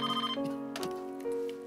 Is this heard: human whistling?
no